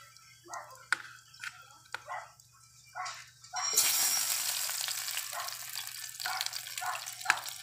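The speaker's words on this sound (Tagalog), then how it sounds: "Unahin natin iprito yung saging" Soft sporadic pops and clicks, then a sudden loud sizzle as banana slices drop into hot oil and keep crackling steadily.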